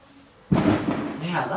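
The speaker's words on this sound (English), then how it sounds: "you guys hear those fireworks going off in the background" Holiday fireworks go off nearby with one sudden loud bang that rolls into a broad, rumbling roar lasting over a second, following near-silence.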